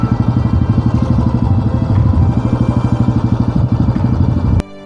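A Royal Enfield Bullet motorcycle thumps loudly and close in a steady, fast single-cylinder beat while it is ridden, then cuts off abruptly near the end, with no one talking.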